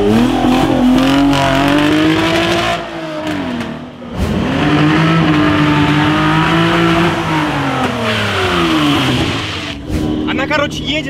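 Mitsubishi FTO engine running with misfires while driving, rising and falling revs with a strained, uneven note, loud and close, with a brief dip mid-way and popping toward the end.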